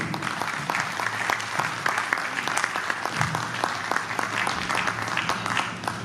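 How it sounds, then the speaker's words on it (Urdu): Audience applause at a Yorkshire Urdu mushaira poetry gathering: many hands clap steadily and evenly, loud and continuous throughout, with individual claps standing out and no speech. "بہت ساری تالیاں"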